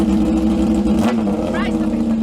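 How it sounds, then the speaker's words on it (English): A motorcycle engine running with only a link pipe fitted and no exhaust, a loud, raw, steady drone close by for a couple of seconds. "we're just gonna start it up to see what it sounds like just with the link pipe on, with no exhaust or anything"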